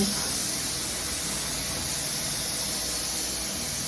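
A continuous, even rush of water pouring into a blender over pumpkin seeds, hissing steadily, close and uninterrupted throughout.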